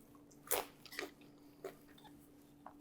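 Crunchy tortilla strips topping a salsa verde chicken tortilla soup are bitten and chewed at close range, giving several sharp, separate crunches spaced about half a second apart, then quieter crackles.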